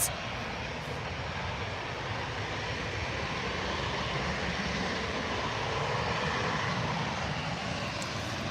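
An EasyJet airliner taxiing at Manchester Airport gives a constant, broad engine roar that holds steady from start to finish, heard from outside with no talk.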